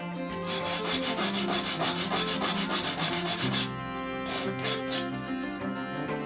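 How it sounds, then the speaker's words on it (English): Steady back-and-forth rasping of a sanding stone shaping mosaic pieces, repeated in quick even strokes, close up, with a brief pause near the end. "You can shape the pieces with the sanding stone too."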